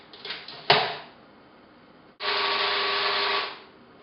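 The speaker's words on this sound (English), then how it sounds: "pop the lid on and whiz it up until it's nice and smooth" A food processor whizzes a chicken meatball mixture for Italian meatballs, running in one steady continuous burst for about a second and a half after a short clunk of the lid.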